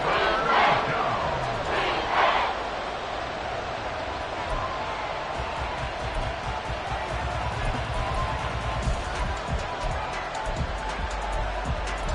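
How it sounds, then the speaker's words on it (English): A huge NFL stadium crowd roars steadily during a fourth-quarter Dallas–Washington football game, a dense wash of cheering and shouting that swells slightly and stays loud throughout. "A big play here as the crowd noise rises."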